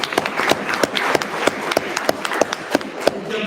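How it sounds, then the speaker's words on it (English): Sparse, uneven clapping from a small audience, individual hand claps standing out sharply at close range for a few seconds with no talk over it. "Let's applaud that."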